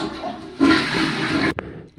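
A toilet flushes close by: a sudden loud rush of water lasting about a second, ending with a sharp clunk and a fading trickle.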